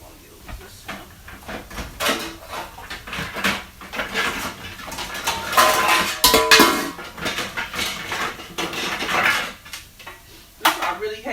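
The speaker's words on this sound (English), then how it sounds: "I really hate digging in these pans" Metal baking pans clatter and scrape in a kitchen cupboard as someone rummages for a rectangular meatloaf pan, an uneven run of clanks and rattles, close and fairly loud, with brief talk mixed in.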